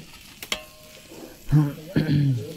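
Pulao rice is stirred in a large cooking pot at an outdoor family picnic. A couple of sharp knocks come first, then scraping stir sounds mixed with brief voice-like murmurs nearby.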